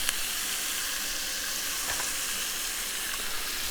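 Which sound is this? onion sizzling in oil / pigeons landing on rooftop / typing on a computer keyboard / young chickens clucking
onion sizzling in oil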